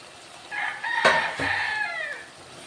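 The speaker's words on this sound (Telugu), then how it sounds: "కోళ్ళు బాగా అరుస్తున్నాయండి, బయటికి వినబడుతుందా సౌండ్?" A single rooster crows a drawn-out call, fairly distant and faint, against a quiet background.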